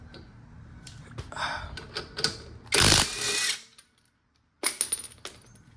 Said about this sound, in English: taking off my lugs